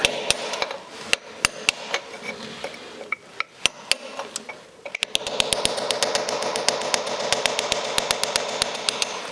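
A hammer strikes a chisel over and over to turn a stuck drain plug on a David Brown tractor gearbox, sharp metallic blows that start spaced and speed into a rapid steady rhythm.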